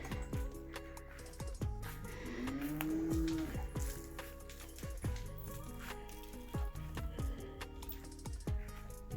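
Several cows moo repeatedly, one long rising low call in the middle, with other moos overlapping nearby amid barn clatter.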